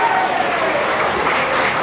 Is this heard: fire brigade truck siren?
no